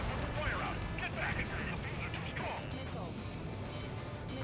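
Aircraft gunfire and chain-reaction explosions on a pipeline in the video game Ace Combat 7 rumble as dense, continuous booms and crackles, with someone talking over the din.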